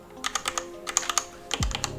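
Keys on a DaVinci Resolve Speed Editor, a mechanical-style editing keyboard, are pressed in quick bursts of sharp clicks in uneven rhythm, close and moderately loud, with a low thump near the end.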